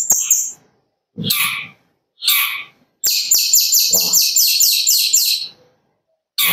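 A young long-tailed shrike (cendet) calls loudly and close, giving a few separate harsh notes and then a fast rapid-fire burst of repeated chattering phrases, with no talking.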